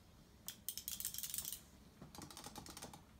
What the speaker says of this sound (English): The clicky's a bit nicer as well, a bit sharper, maybe a bit louder, maybe.